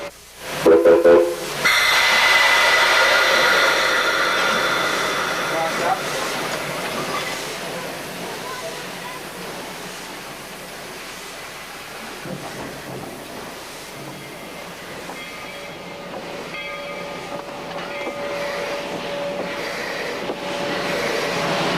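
A Virginia and Truckee Railroad steam train engine runs near Gold Hill with a loud opening burst of steam and a short whistle, then a long steady rumble and hiss that gradually eases off.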